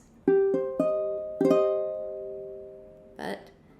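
A minor chord on piano, notes sounded singly in quick succession then sustained together, decaying over a couple of seconds before a short burst of speech.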